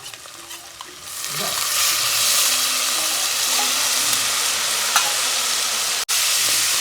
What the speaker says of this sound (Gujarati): હવે નાખી દઈશું લસણનો પેસ્ટ